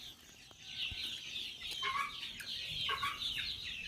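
Chickens cluck and chatter continuously, several birds close by, with a busy, overlapping flock sound and no talking.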